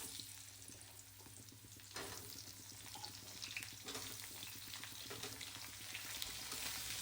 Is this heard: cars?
no